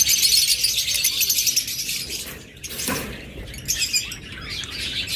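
Fischer's lovebirds, parblue and albino pairs, chirp in a continuous high-pitched chatter, fairly close and lively, with a brief lull midway, no voices.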